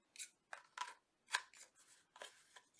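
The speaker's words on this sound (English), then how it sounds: "I just had to cut that little piece off." Scissors snip through paper overhang in a quick series of about eight crisp, close cuts in an uneven rhythm, quiet and alone.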